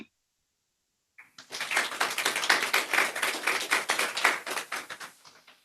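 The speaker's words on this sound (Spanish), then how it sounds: "Un aplauso enorme acá en el auditorio." After a second of silence, a moderate round of clapping starts up in an auditorium, steady for a few seconds before tapering off.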